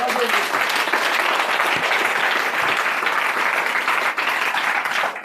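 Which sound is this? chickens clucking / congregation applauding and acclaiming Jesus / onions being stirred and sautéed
congregation applauding and acclaiming Jesus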